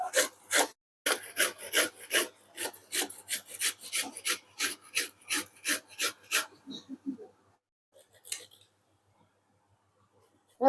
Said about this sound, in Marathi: मस्त हिरवागार आंबा आहे. चला आता किसून घेऊया.